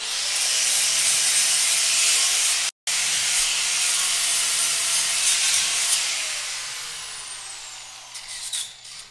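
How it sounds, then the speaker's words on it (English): A power sander runs steadily against a metal owl sculpture made from a shovel, rake and saw blade, giving a loud, continuous abrasive hiss with one brief cut-out before it slowly winds down. "Just a touch up with the sander."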